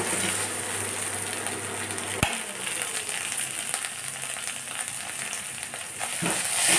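Cauliflower curry with tomato frying in oil in a pan, a steady close sizzle and crackle throughout, with one sharp knock partway through and the frying swelling louder toward the end.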